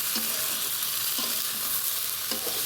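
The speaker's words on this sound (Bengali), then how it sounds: "একটা ভয়ঙ্কর ব্যাপার এই মরিচগুলো বারবার ফুটে যাচ্ছে" Chilies frying in hot oil in a pan while fish is cooked for taki fish bhorta, giving a constant loud sizzle with a few sharp pops and stirring scrapes up close.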